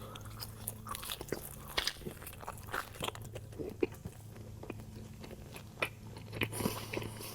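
Someone eating Snap's pizza topped with sausage and bacon in a close-miked mukbang, with repeated crunchy bites and wet chewing in an irregular rhythm and no talking.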